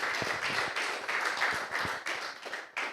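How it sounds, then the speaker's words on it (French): Steady applause from a crowd at the Morocco Now launch during Morocco Global Investment Hub Week, dense clapping that holds throughout with no pause. "Vous pouvez l'applaudir, vous devez même."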